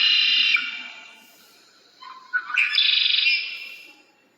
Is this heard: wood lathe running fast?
no